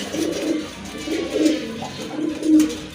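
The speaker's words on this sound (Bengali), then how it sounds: "এখানে কিন্তু দেখতে পাচ্ছেন এক জোড়া খয়রা গলা কবুতর রয়েছে" A pair of brown-necked pigeons coo nearby in soft, repeated low phrases, three or four murmuring bursts over a quiet background.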